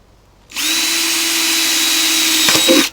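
A power drill bores a hole in a stove, starting abruptly and whining at a steady pitch for about two seconds, then shuddering and rattling briefly before it stops; close and loud, nobody talking.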